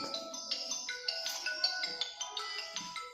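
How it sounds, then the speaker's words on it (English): A mobile phone rings with a bright, repeating melodic ringtone in quick pulsing notes, moderately loud and close, with no talking. "the mobile is ringing right now as usual"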